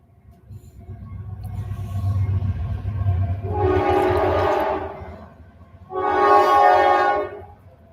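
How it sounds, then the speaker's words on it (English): Train rumbling past an apartment building, a low steady rattle building over several seconds, then two loud sustained horn blasts, the second after a brief gap, heard up close through the walls. "Oh, you hear the train."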